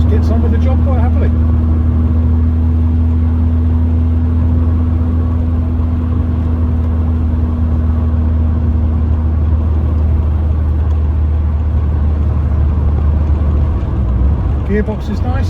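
A 1982 VW Golf GTi MK1 with a 1.8 engine running steadily while driving, a continuous loud low drone with a constant hum, someone speaking briefly over it.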